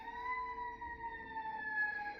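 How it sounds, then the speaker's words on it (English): A wailing siren drones steadily at a distance, its tone sliding slightly as it passes, fairly faint. "There's a siren going by."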